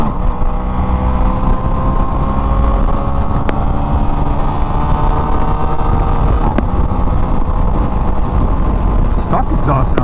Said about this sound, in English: Stock exhaust sounds really good in this bike